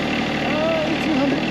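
A hydraulic machine's engine idles with a steady, loud, unbroken drone, while a voice speaks over it.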